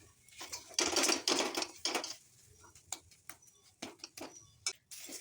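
Taro leaves frying in a pan are stirred with a utensil, giving irregular scraping and clinking bursts with sizzling patter, close and fairly quiet, with denser scraping early and sparser taps later.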